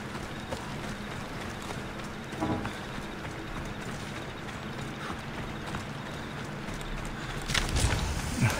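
Horse hooves in the video game Assassin's Creed Odyssey, a soft clip-clop running under steady game ambience, growing louder near the end.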